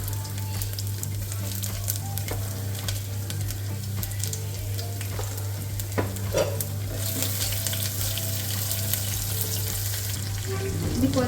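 Ginger fries in a pan for rice rava upma, giving a steady close sizzle with occasional stirring scrapes and clinks, and no talking.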